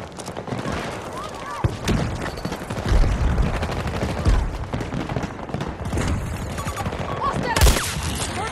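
Rifle gunfire in Battlefield 2042 during sniping on an open battlefield, loud sharp shots and bursts recurring through the clip amid dense game noise, with a voice talking over the action.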